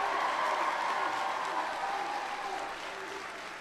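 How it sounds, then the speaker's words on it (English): An audience in a warm school gym applauds the school superintendent with continuous, even crowd clapping that stays fairly loud and slowly tapers over a few seconds. "So give him a big round of applause."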